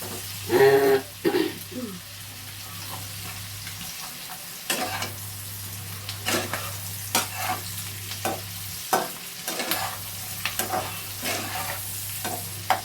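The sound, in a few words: stirring chicken with peas frying in a wok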